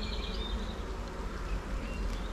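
Honeybees in a failing hive with few workers left and mostly drones, a steady close buzzing hum with no talk.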